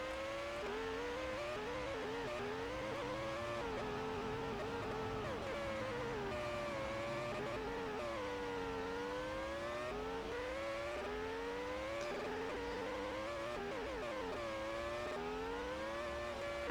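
Race car engines on a flying qualifying lap in a racing game, a sustained high-pitched whine rising and falling with gear shifts and corners, loud and continuous throughout.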